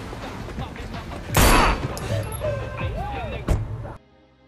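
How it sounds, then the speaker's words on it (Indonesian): A burst of loud gunfire in a film erupts, followed by scattered sound effects and another sharp shot before the sound cuts off. "Meskipun terkena tembakan, Adelita berhasil kabur dari lokasi itu."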